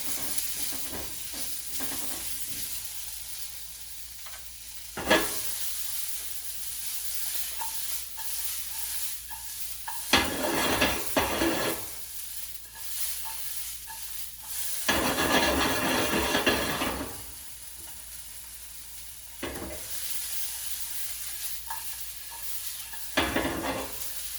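Onions and tomatoes fry in a pan for a healthy breakfast, a steady soft sizzle broken by several bursts of louder stirring and scraping, with no talk.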